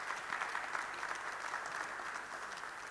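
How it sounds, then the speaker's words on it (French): Steady applause from an audience at a town meeting in a cultural centre, a dense even patter of many hands clapping throughout, moderately distant with no voices standing out. "Et on peut vous applaudir."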